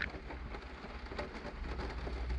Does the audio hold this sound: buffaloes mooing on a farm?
no